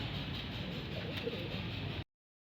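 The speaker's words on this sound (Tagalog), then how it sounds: "Yan mga kalapatids" Pigeons in a loft or coop softly cooing in a steady, low murmur against continuous background noise, with no voices, ending abruptly.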